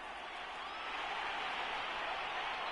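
A distant, steady wash of stadium crowd noise rises gently at a football game, a soft continuous roar with no distinct claps or voices standing out.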